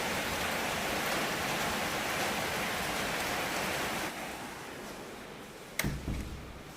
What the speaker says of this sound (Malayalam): മഴ അങ്ങനെ തകർത്ത് പെയ്തുകൊണ്ടിരിക്കണേ